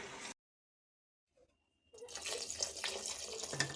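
Water pours into a brinjal curry with fish and tamarind leaves. A short burst, then silence, then a sustained close splashing pour.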